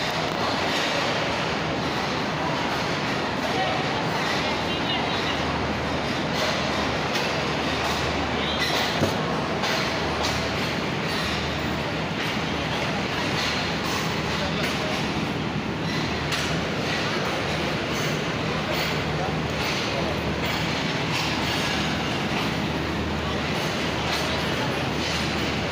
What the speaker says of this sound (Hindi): अब Karachi express right time departure कर चुकी है लाहौर जंक्शन रेलवे स्टेशन से